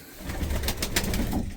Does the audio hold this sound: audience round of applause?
no